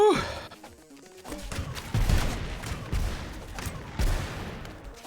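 Gunfire in the video game Rounds: bursts of sharp shots cracking in quick succession over several seconds, with a brief breathy vocal sound near the start.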